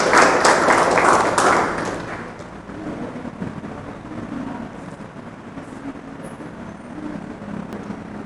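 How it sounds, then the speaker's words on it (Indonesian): Loud applause from a high school audience at a student council candidate debate, a dense burst of clapping that swells for about two seconds and then settles into a lower, steady crowd rumble. "Beri tepuk tangan yang meriah."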